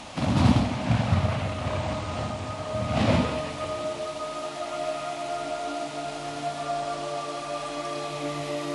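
Steady hissing rainfall in Metal Gear Solid 3: Snake Eater, with two heavier rumbling swells early on. A low sustained tonal drone runs underneath the continuous downpour, and no one speaks.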